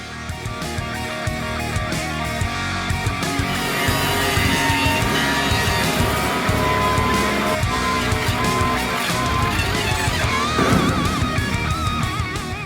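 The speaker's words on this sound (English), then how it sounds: "Let's get this thing hooked up to my joiner and make some sawdust and see how well it works." A wood jointer runs hooked up to a Grizzly T33587 dust collector, giving a loud, continuous, close-up motor roar with a wavering whine that holds throughout.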